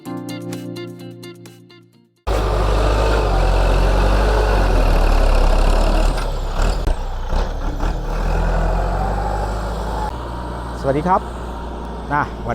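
After a short musical jingle, a John Deere 5090E tractor's heavy diesel engine idles steadily and loudly up close, with someone talking over the rumble.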